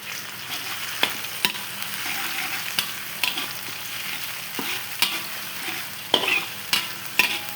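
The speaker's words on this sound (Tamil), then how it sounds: "நல்லா வதக்கிடுங்க." Crushed garlic and green chillies sautéing in hot oil for a brinjal curry, with a steady frying sizzle throughout and occasional sharp clacks of a spoon stirring the pan, no talk.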